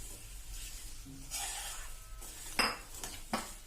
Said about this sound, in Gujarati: હવે એમાં આપણે આ 150 ગ્રામ જે ખાંડ લીધી છે એ નાખી દેશું અને ખાંડ ઓગળે ત્યાં સુધી આપણે હલાવશું.